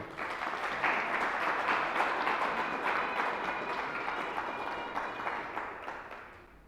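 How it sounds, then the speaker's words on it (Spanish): A congregation in church claps together in praise, a moderately loud, even wash of applause that slowly fades toward the end. "un fuerte aplauso al Señor."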